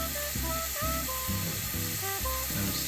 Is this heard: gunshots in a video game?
no